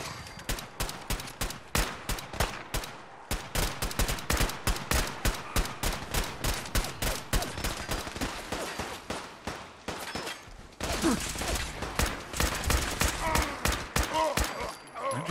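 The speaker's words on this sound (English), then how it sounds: "Why'd you quit shooting me with them incendiary laser rifles" Rapid bursts of gunfire from enemies wielding incendiary laser rifles in Fallout 4, dense and sustained crackling volleys close by for the whole stretch, briefly thinning before a renewed barrage.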